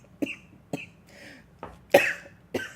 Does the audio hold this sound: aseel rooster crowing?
no